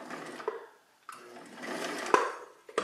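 An antique Husqvarna Viking CL8 sewing machine runs in short, uneven bursts, whirring up, pausing briefly, then starting again with a sharp clunk near the end, close and moderately loud.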